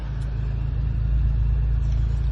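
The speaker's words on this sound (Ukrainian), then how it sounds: "Гарний звук вихлопу." A 2011 Audi A5 with a 2.0-litre petrol engine idling with a deep, rumbling exhaust burble, steady and close, with a continuous low throb.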